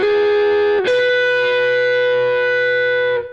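A distorted electric guitar rings out a lick: a held note, then a fresh pick on the second string that sustains brightly for about two seconds before cutting off, close and loud with slight reverb.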